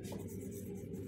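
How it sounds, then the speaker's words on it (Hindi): Continuous, scratchy writing on a classroom board during a Class 9 geometry lesson on triangles, a steady close rasp over low room noise. "तो यहां पे लिख लेंगे ट्रायंगल"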